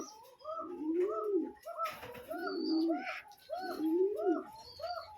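Pigeons coo steadily in a pigeon loft in the morning, with repeated throaty rolling coos from several birds close by and brief chirps and rustles in between.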